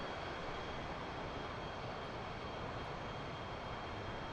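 Twin R-13F jet engines of a Soviet interceptor in a flight video game give a continuous, even broadband roar, steady and unbroken throughout with no talking.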